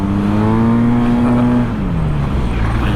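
A Yamaha TMAX 530 DX scooter's engine climbs under full throttle, a steady rising drone that dips briefly as it shifts, loud and close throughout.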